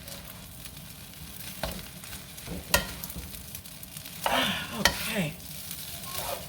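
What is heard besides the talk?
stirring vegetable fried rice sizzling in the pan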